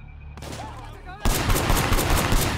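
Gunfire in the video game Sleeping Dogs, with a brief stretch of voice and game sounds giving way to a dense, loud, rapid barrage of shots that continues to the end.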